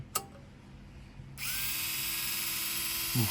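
After a click, a small electric screwdriver motor spins up and runs at a steady high whine for a couple of seconds before a clunk.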